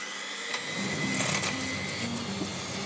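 Electric mixer whipping egg yolks in a kitchen, a faint steady high-pitched motor whine with a brief louder surge, fairly quiet and without talk.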